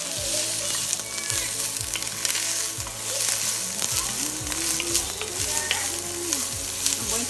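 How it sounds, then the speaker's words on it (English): Cauliflower rice and broccoli sauté over low heat in a pan, giving a steady close sizzle with occasional scraping stirs, and no voices. "I'm going to leave that on low heat to saute"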